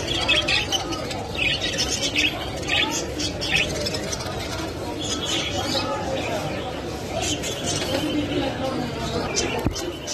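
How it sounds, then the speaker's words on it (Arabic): Caged pet birds on sale at a busy Baghdad market chirp and squawk steadily amid crowd chatter and nearby vendor talk, a dense continuous bustle throughout. "هذني طيور حوض وربيات وبيهن كورة."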